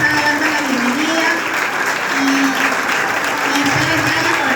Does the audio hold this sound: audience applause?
yes